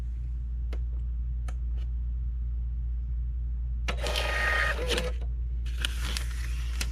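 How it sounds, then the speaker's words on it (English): A garage-sale printer runs its self-test page, with a quiet clicking start and then two loud bursts of mechanical printing and paper feed over a steady low hum. "So I'm going to hold down the feed button and turn it on."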